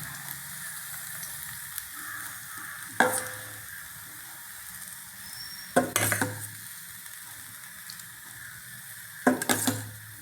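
Batter is poured into a hot pan and sizzles quietly and steadily, broken by three louder bursts of spattering and scraping spaced a few seconds apart, with no talk.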